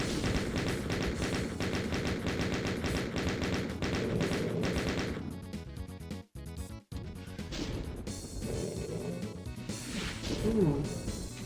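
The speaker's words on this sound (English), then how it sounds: "Swapping to the chain gun to snipe off some." Rapid chain gun fire in a Doom map, a steady stream of loud, close shots over game music, with short breaks near the middle before the firing resumes.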